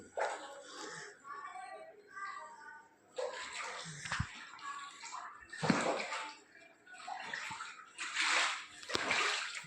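Floodwater that has entered a house after rain sloshes and splashes in uneven bursts as someone moves through it, with someone talking over the water throughout.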